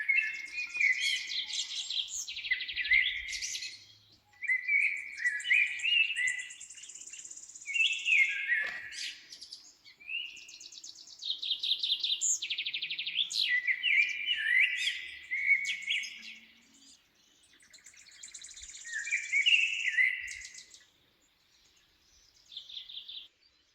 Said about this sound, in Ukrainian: Продовжуємо слухати солов'я.